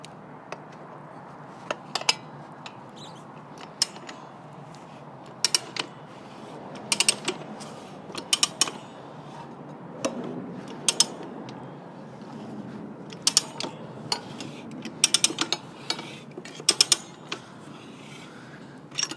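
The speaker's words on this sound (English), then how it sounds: "Always stand here behind the tire changer and start ratcheting." Motorcycle tire changer being ratcheted while changing an Africa Twin rear tire with an inner tube: quiet mechanical creaks and clicks with short bursts of sharp ratchet clatter scattered irregularly, close by, no talk.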